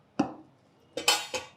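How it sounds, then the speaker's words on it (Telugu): Dishes knocking together in a home kitchen as a bowl is lifted and set aside while jowar roti is being made: one clear clatter, then two quick close clinks a moment later, with no talking. "గిన్నె తీసి పక్కన పెట్టు"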